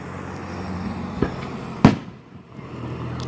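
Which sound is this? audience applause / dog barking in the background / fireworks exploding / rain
fireworks exploding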